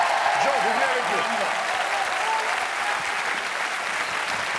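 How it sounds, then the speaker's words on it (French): A French television studio audience applauds steadily, a dense, even wash of many hands close and full, with voices and cheers faintly rising beneath it throughout. "Allez, on l'applaudit pour qu'il y aille"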